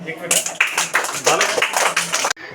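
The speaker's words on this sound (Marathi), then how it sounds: "छान टाळ्या वाजवा आता" A small group, likely children in a home lesson, claps hands in a quick uneven burst of close sharp claps, with voices mixed in, before stopping abruptly.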